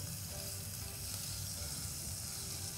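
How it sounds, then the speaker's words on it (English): Steady, dense sizzle of vegetables frying in hot oil, a continuous crackling hiss close by with no talking. "We know it's hot when it sizzles very well."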